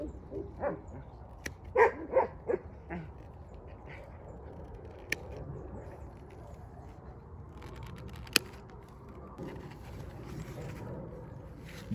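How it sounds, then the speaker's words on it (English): A few faint barks and yips from dogs playing in the distance on a goat farm, coming in short bursts over a quiet background. "You can hear our dogs playing around in the background."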